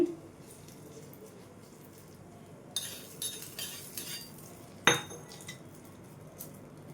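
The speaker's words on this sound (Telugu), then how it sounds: "ఈ పోపుని పచ్చడిలో వేసేసుకొని మంచిగా కలిపేసుకోవాలి" A spoon stirs and scrapes in a metal bowl, mixing tempering into curry leaf chutney, with scattered clinks and one sharp knock, over a quiet background hiss.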